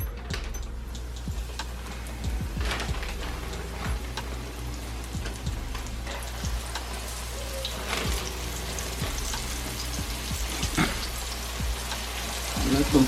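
Cube steak frying in hot oil gives a steady, faint, rain-like crackle and spatter that runs throughout, with scattered sharper pops along the way.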